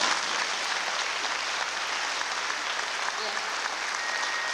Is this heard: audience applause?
yes